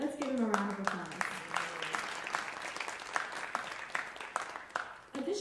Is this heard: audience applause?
yes